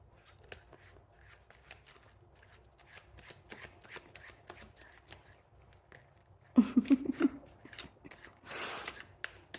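Crisp ruffling snaps of tarot cards being shuffled, repeated in quick bursts, then a louder riffle and bridge near the end.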